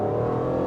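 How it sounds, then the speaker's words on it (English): Aston Martin Vantage V12 Roadster pushed to full throttle, its V12 engine a loud, steady, close-up roar with sustained low rumble and no voices over it. "let's give it full throttle here"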